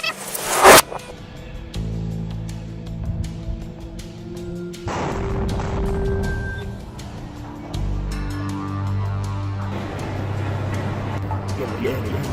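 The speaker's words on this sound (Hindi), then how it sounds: "वो तुरंत ही उस पर रॉकेट लॉन्चर से एक गोला दाग देता है, जिसके बाद एक बहुत बड़ा धमाका होता है" Rocket launcher fire striking an IDF vehicle in Khan Yunis, Gaza, opens with a sharp loud blast, followed by rumbling, crackling battle noise and scattered bangs over a low continuous drone.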